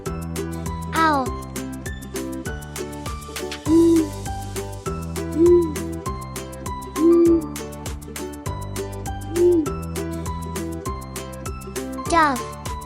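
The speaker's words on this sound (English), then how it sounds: "owl," An owl gives four short, low hoots spaced a couple of seconds apart, set over cheerful children's background music.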